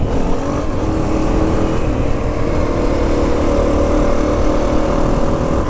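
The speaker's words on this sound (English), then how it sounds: "Oh yeah, a little third gear clutch up, it wheelies." Honda CRF250F dirt bike engine pulling hard in third gear during a clutch-up wheelie, a loud, steady, close buzzing drone that holds for the whole stretch with no talk.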